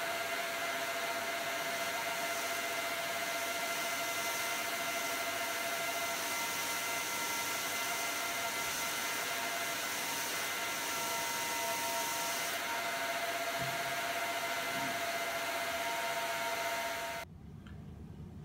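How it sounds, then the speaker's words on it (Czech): A workshop vacuum cleaner with a homemade cyclone dust separator runs steadily with a constant whooshing, whining drone, then cuts off abruptly near the end. "Zapneme vysavač a pustíme se do práce."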